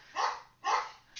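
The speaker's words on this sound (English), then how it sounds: "there goes my dog" A pet dog named Shyla barks twice at a visitor outside, each bark a sharp, fairly faint burst about half a second apart, with a third starting at the end.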